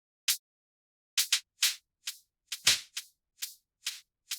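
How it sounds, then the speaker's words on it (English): Hi-hat loop cut from a longer loop, playing a series of about ten bright, crisp ticks in a loose, uneven rhythm, fairly quiet and alone with short gaps between strikes. "It's part of a longer loop, which I just cut into the hi-hats."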